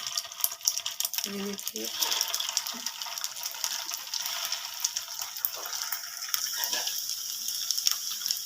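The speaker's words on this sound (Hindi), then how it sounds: "ऑयल हमारा गर्म हो गया है। फ्लेम आपने बिल्कुल लो रखनी है। इसमें हम डालेंगे अपने कबाब।" Beef gola kebabs go into hot oil in a pan over a low flame, raising a steady, fairly loud hiss and bubble with a few clunks as they land, while a voice speaks briefly.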